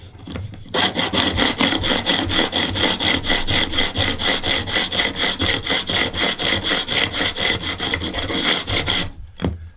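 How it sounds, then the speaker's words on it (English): Angled fret file set in a wooden block, run along the fret edges on the neck of a cigar box guitar, a steady, close rasping with even back-and-forth strokes for about eight seconds, then a stop. "What I have is I have my fret file that's angled in a piece of wood, and I'm going to run it down the side of the neck."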